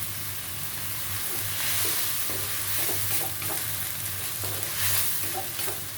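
Minced pork is stirred and tossed in a hot pan, a steady sizzle broken by irregular scraping and clacking of the utensil against the pan, with a low hum underneath and no talk.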